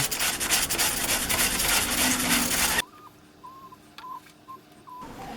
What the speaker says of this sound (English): I am going to go through and hit it with the 150 and the 220 sandpaper